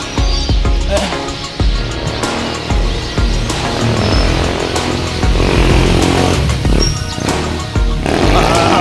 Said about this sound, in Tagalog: nakakarinde yung mga open muffler